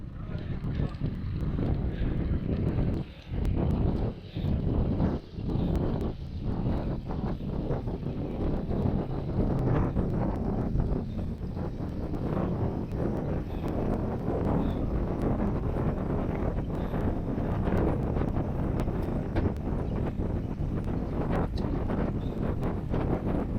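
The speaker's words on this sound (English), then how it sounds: "Ooh, that's a lot of wind." Loud, steady wind rush buffets the microphone while drafting closely behind another rider on an ICE VTX recumbent racing trike at about 25 mph, with brief gusty dips and a voice heard faintly under the roar.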